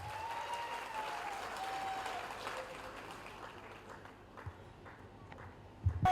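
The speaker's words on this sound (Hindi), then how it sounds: "जोरदार तालियां होनी चाहिए" An audience at a recognition celebration applauds with fairly faint, dense clapping that is strongest at first, then thins and fades toward the end, with a few isolated claps and knocks.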